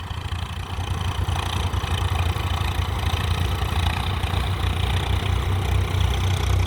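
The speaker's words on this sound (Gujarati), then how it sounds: "બે ટ્રેક્ટર એ કરે છે ઉપડામાં હાલે છે" Two Dharti tractors working a field give a steady, loud diesel engine drone close by, a continuous low rumble with no pauses and no voices.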